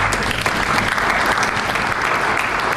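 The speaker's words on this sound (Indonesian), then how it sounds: "Mari kita tepuk tangan." Audience applause at a seminar, a steady, full wash of clapping from many hands throughout, close and loud.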